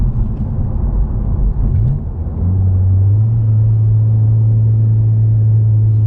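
A 2020 Honda Civic Si pulls at full throttle in second gear from around 3,500 RPM, its engine drone rising steadily in pitch and then holding a loud, steady tone as heard from inside the cabin.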